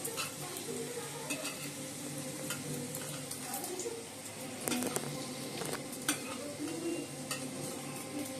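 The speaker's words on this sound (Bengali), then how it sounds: "এই যে বন্ধুরা এখন ভাজছি Mughlai, egg chicken mini Mughlai." Egg chicken mini mughlai frying in oil, a steady close sizzle broken by sharp clinks and scrapes of a utensil against the pan at irregular moments.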